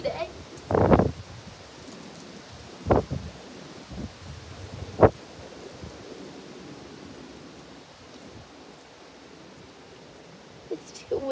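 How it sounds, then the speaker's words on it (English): Steady wind rushes and hisses across the microphone throughout, with a few louder thumps and gusts, and brief bits of nearby activity during a butterfly release in the first half. "Windy today."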